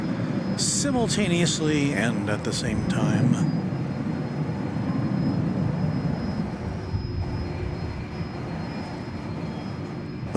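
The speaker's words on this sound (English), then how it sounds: "So we see a plane taking off on the east side" Jet airliner taking off at DFW Airport, a steady roar of engine noise running the whole length, with someone talking over the first part.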